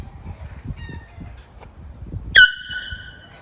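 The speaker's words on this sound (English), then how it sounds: "today I'm torturing the horses with an air horn." An air horn is blown once near horses on a rural road. A single sudden, loud, harmonic-rich blast comes late, after quieter outdoor background.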